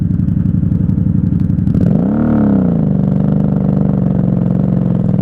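A 1994 Honda Magna VF750C V4 cruiser engine runs steadily, then surges as it accelerates around the two-second mark, its pitch rising and settling into a strong, close, continuous drone with no talk over it.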